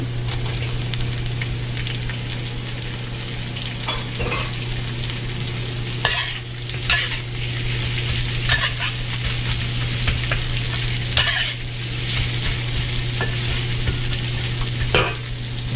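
Onion fries in a hot pan for orange beef, giving a loud, continuous sizzle over a low steady hum, with intermittent scraping stirs and clatters at irregular intervals.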